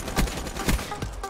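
Video-game gunfire in Black Ops 3 from a heavy-recoil gun: a short burst of several rapid, fairly quiet shots in quick succession, with no talking.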